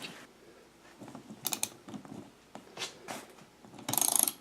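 A ratchet wrench clicks in short bursts while nuts and bolts are tightened on a wheel during a tube tire repair, with a quick rapid run of clicks near the end.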